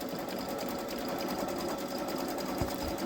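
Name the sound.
Baby Lock Solaris embroidery machine stitching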